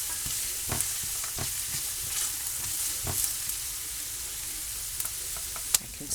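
Onions and spices, with cinnamon, sizzle and fry steadily in a hot pan while a utensil scrapes and stirs with intermittent soft knocks, close and continuous.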